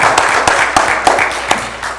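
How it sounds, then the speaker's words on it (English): A church audience applauds together, giving steady dense clapping with a few sharper claps standing out over two seconds, fairly loud and near, with no talking. "Maybe a round of applause for his contributions."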